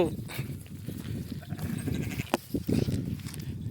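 A flock of sheep grazes on dry grass, with close bleats rising over a continuous rustle and a voice talking in the background.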